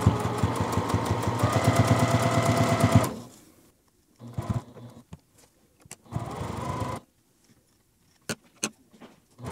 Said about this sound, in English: I'm just going to leave my needle in the down position, raise my presser foot, turn my work, and then I can just keep going.